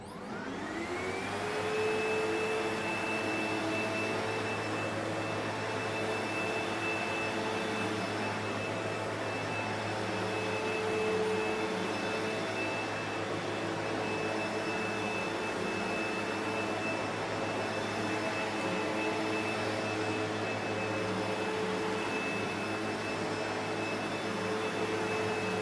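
A SEBO vacuum cleaner running on carpet, spinning up at the start and then holding a loud, steady whining drone for about 25 seconds with no talk.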